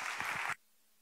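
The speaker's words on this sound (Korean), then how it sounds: "박수로 많은 축복 부탁드리겠습니다" A church youth congregation claps to welcome a preacher, a brief burst of applause that stops abruptly after about half a second, leaving near silence.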